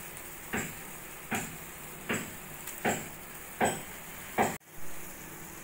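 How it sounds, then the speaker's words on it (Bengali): Grated raw potato squeezed into a pot of boiling water and stirred, giving a steady bubbling sizzle broken by six regular, close stirring scrapes and splashes, ending with a sharp clatter. "জলটা ফুটে উঠেছে, এবার আমি গ্রেট করে রাখা আলুটা চিপে দিয়ে দেবো এই জলের মধ্যে।"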